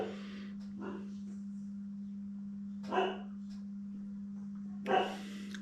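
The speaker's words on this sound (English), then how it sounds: "Excuse the dog barking." A dog barks in short bursts indoors, three separate barks spaced about two seconds apart, moderately distant, over a steady electrical hum.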